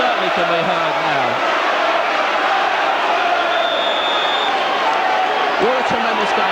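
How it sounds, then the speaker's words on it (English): A football crowd of Tottenham supporters chants and roars in a packed stadium during a 1988/89 match against Charlton Athletic, a steady dense wash of voices filling the clip with no break. "the Tottenham crowd certainly can be heard now"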